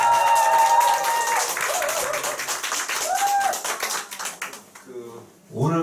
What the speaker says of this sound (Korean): 자, 박수, 큰 박수 한번 주세요